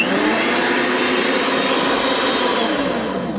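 Electric mixer whisking sweetened condensed milk for a strawberry and cream dessert, a loud steady high-pitched motor whir running without pause at close range.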